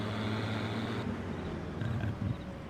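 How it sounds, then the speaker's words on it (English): A steady, low tractor engine drone in a farming video game hums continuously at a moderate level, with a slight shift in tone partway through. "This does sound like this is a nice sounding tractor."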